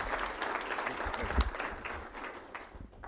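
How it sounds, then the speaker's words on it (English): Audience applause at a school board meeting honoring a retiring superintendent's 20 years of service, a steady mass of clapping that swells briefly midway and thins out toward the end. "another round of applause for Dr. Chase Stinson and his 20 years of service to Westfield Washington Schools"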